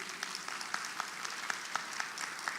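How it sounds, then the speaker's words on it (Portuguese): An audience at an education meeting gives a round of applause, a fairly soft, steady patter of many hands with a few sharper claps standing out, no speech over it. "eu queria pedir uma salva de palmas para vocês."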